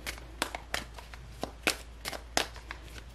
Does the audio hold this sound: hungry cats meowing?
no